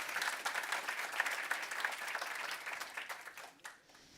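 Conference audience applauding at an international AI summit, a dense wash of clapping that holds steady and then thins out and fades toward the end.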